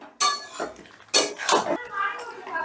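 A spiced mixture of potato and flat beans is stirred in a pan, giving two sharp clinks of a spoon against metal followed by softer scraping and shuffling, close and quiet.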